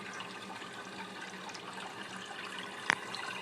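Water from evaporative coolers in a dual-loop rainfall setup flows and drains in a steady, faint, even trickle, with one brief sharp splash or clink near the end.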